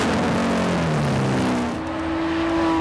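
Lamborghini sports car engine pulling hard, a loud steady roar whose pitch sinks then climbs again as it accelerates, close up and without speech.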